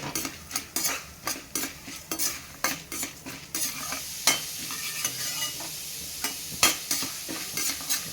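Chana dal and peppercorns fry in a hot pan for poha upma, with a steady sizzle broken by repeated scraping stirs of a spoon against the metal, close and alone.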